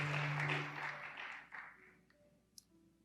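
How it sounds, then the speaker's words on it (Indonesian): A church congregation applauds worship leaders and musicians at a Sunday service, with a dense burst of clapping that is loudest at the start and fades over a few seconds, followed by a faint click. "Boleh kasih tepuk tangan yang dahsyat buat para worship leaders dan musicians"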